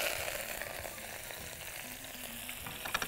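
Fresh coriander leaves sautéing in hot oil with bay leaf, cinnamon and cloves in a pan: a steady, close sizzling hiss with light stirring scrapes and a few small taps near the end, no one speaking.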